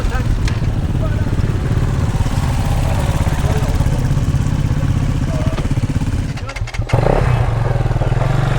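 Adventure motorcycles approach along a green-lane trail, a steady mid-pitched engine drone with clattering that dips briefly near the end before returning, and speech mixed in over the engine.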